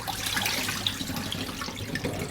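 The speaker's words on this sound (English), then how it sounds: "Swirl it with your hand. The water goes cloudy and pour it off 3 or 4 times until it's mostly clear." Rice is swirled by hand in water and rinsed, a close, continuous sloshing and trickling wash of liquid without any speech.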